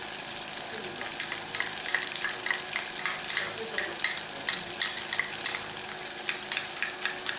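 Tinned tomato frying in red-hot oil in a pan, a steady, busy sizzle with crackles and stirring scrapes throughout, fairly close and without talk.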